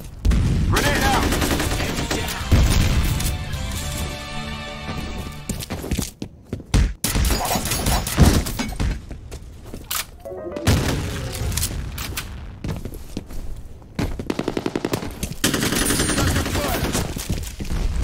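Combat in the video game F.E.A.R., with dense bursts of automatic gunfire, sharp shots and heavy booming grenade explosions, loud and chaotic, with brief lulls and game voices calling out between the blasts.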